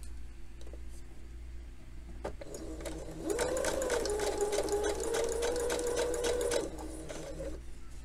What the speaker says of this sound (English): I'm going to sew the facing on